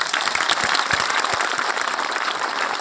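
A crowd at a political speech in Bihar claps for its ancestors, a dense, continuous burst of applause throughout with a few louder, closer claps near the start.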